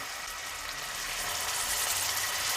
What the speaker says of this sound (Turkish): Yağ ısındığı anda etimi şöyle bırakıyorum.